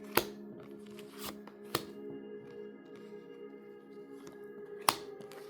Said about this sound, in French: je vous sors déjà 5 cartes